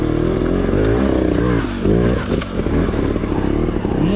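A lightweight trial motorcycle climbs a rough rocky trail at Pedra Grande in Igarapé, its engine revving loud and close in choppy bursts that rise and drop as the rider works the throttle, with clattering and scraping over stones and no voices.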